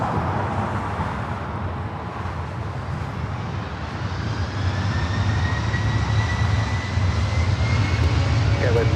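A Delta jet airliner takes off at Los Angeles International Airport, a broad engine roar swelling steadily louder with rising whine tones, while a voice talks over it.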